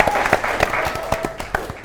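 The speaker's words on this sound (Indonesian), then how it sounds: "Sebelumnya kita kembali beri tepuk tangan untuk kedua tim." The studio audience at a quiz show claps for both competing teams, with a loose, uneven run of hand claps and a thin tone lingering underneath.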